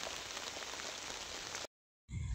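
Rain patters on a shelter beside a cucumber field during a sunshower, a steady close hiss that cuts out abruptly before resuming.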